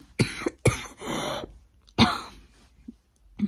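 Several harsh coughs up close, two sharp ones in quick succession, then a raspy drawn-out one and another burst, with short breaths between.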